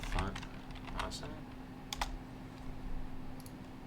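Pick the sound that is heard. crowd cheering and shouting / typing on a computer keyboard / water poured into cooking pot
typing on a computer keyboard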